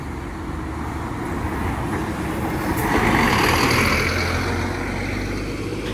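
Heavy Hyundai buses rumble with a low engine drone that swells as they pull out of a highway hotel stop, steady traffic noise around them.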